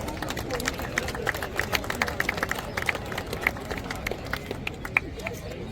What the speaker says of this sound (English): Let's give our wonderful ladies a huge round of applause.